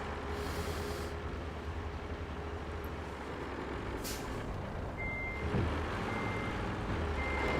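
A dump truck in the RoadCraft video game gives steady reversing beeps over a constant engine rumble. There is a brief hiss like an air brake, and no voices are heard.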